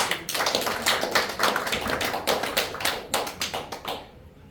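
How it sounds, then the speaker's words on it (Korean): A church congregation claps to welcome a pastor, with brisk, crisp applause from many hands that keeps an even pace for several seconds and then stops abruptly. "크게 박수로 환영해 주시기 바랍니다"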